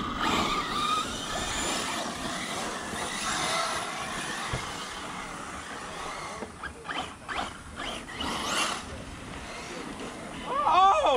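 An Arrma Mojave 6s brushless RC car speeds around outdoors, its high-pitched motor whine rising and fading as it passes, with tire scrabbling and bursts of acceleration heard at a moderate distance amid wind and ambient noise.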